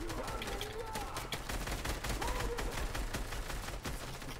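Rapid automatic gunfire in a video game, dense continuous bursts of shots filling the whole stretch, with players' voices talking excitedly underneath.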